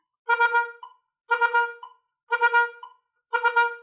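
An oboe tongues quick groups of three sixteenth notes on one note, four evenly spaced bursts with short silences between them, played close and clean with no other sound.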